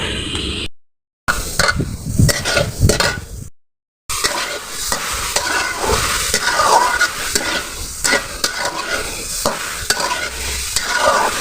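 Pumpkin greens, with crushed garlic, frying in oil in a pan are stirred vigorously, giving close, loud scraping and clattering strokes over a constant sizzle, broken by two brief silent gaps early on.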